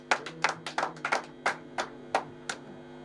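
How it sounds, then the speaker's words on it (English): Sparse, sharp handclaps at a graduation ceremony as a keynote speaker arrives, about a dozen distinct claps from a few people, uneven in rhythm and thinning out toward the end, close and fairly quiet. "Let us give him a round of applause as he comes."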